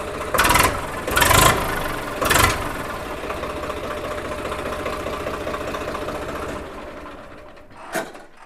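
A 2019 Swaraj tractor cranked on its self-starter in a village yard: several loud starter bursts, then the diesel engine settles into a steady idle before a final short knock.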